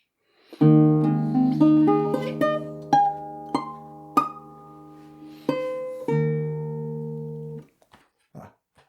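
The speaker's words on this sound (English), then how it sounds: "if I were to play with my left-hand nails, it would sound something like this" Slow, halting classical guitar notes plucked one by one, fretted with left-hand nails, with sharp, slightly clicky attacks and ringing decays, ending in a short pause and scrape.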